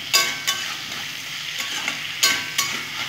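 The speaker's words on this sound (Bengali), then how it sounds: "ঢাকা দিয়ে দিয়ে আমি ভেজে নেবো" Pumpkin and green chilli fry in a pan for a thin hilsa fish curry: a steady, close sizzle broken by a few sharp spatula strokes.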